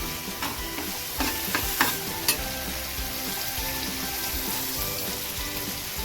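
Marinated soybeans drop into a hot pan and sizzle loudly in a steady, crackling fry, broken by a few sharp spatters and stirring scrapes in the first half.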